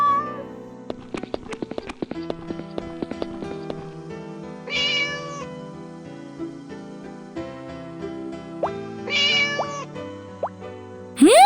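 High, thin meows from a small kitten, a few separate cries spaced over several seconds, amid soft background sounds and a few light taps.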